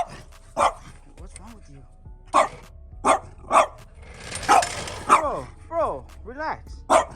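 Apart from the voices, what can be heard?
dog barking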